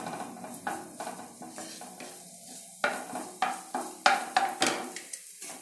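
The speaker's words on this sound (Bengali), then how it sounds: "তেলটা গরম হয়ে গেছে। এর মধ্যে আমি কুচনো রসুনগুলো আগে একটু নেড়ে নেব।" Minced garlic sizzles in hot oil for chicken Manchurian while a utensil stirs it in quick, repeated scraping strokes, close and fairly loud, with no talking.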